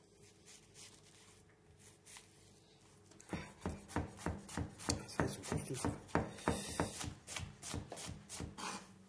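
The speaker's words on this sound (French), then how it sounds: "l'oignon est émincé" After a quiet start, a knife rapidly and steadily chops an onion on a board, mincing it for a bolognese meat sauce for beef lasagne. The crisp strikes come close together and carry on to the end.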